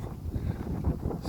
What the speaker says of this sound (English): Oh, windy this morning.